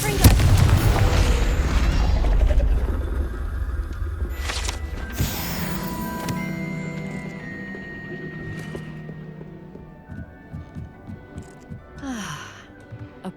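Deep booming blast of the Confringo spell in Hogwarts Legacy, loud and close, followed by crackling debris and a decaying rumble, with a brief gasp and ambient game sounds as it fades.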